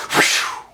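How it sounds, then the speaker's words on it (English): A single loud, close sneeze bursts out sharply and fades within a second. "That was my sneeze."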